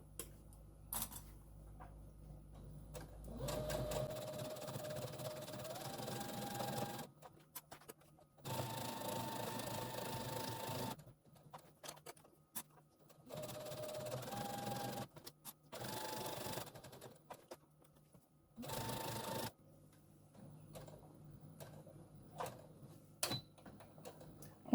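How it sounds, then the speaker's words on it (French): Sewing machine stitching the corner of a beginner's cushion, several bursts of fast rhythmic mechanical whirring separated by pauses, close and moderately loud without talk. "vous piquez dans l'angle, vous laissez votre aiguille piquer, vous soulevez votre pied presseur et vous tournez"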